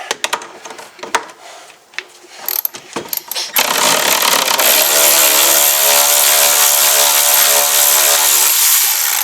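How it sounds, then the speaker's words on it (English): An electric ratchet with a short 18 mm socket runs continuously at high pitch while fitting a Mild Mantis kit on a C5 Corvette drift car, loud and steady after a few scattered clanks and handling noises at the start. "Might be able to get the electric ratchet with a short 18 on there."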